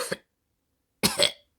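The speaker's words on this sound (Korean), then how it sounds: "기침을 했다." A single person coughs in a brief audiobook sound effect, a short faint burst followed after a pause by a louder double cough, close and alone.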